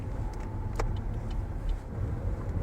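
An Opel Astra J drives on a test track hill climb, heard from inside as a low steady road and engine rumble, moderately quiet, with a few faint clicks and rattles over it.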